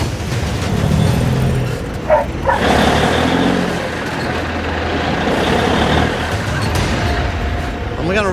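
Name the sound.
truck engine straining, stuck in wet sand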